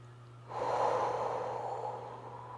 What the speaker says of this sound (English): Two more breaths here.